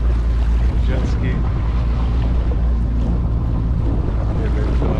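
A jet ski running on open water at the beach, its engine a loud, steady drone mixed with wind buffeting and rushing water throughout.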